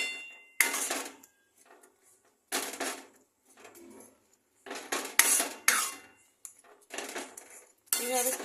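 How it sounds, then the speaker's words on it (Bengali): A metal utensil mashes cooked mustard greens (sarson saag) in a pot, giving about six separate bursts of clanks and scrapes against the metal with quiet gaps between them. "এবারে আমি এটা একটুখানি এইভাবে থেতলে থেতলে দেবো"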